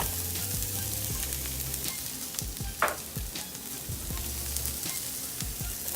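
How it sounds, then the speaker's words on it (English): Celery pieces sear in a hot pan, giving a steady close sizzle with scattered crackles and a few soft stirring knocks. "I need to brown my vegetables or sear off my vegetables here"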